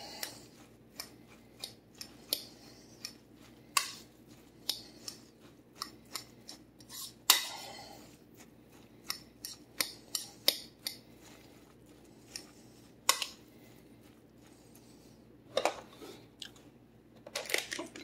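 Cauliflower cutlet ingredients are mixed in a bowl, producing irregular close clicks, taps and scrapes of a utensil against the bowl with quiet pauses between, and no talking.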